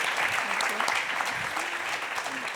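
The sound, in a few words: audience applause for Anna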